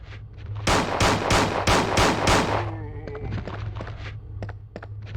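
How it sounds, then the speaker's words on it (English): Heavy video game gunfire with lots of bullets rattles off in several loud broadband bursts over a low steady hum, followed by a spray of sharp, scattered clicks and impacts. "this is a lot of bullets"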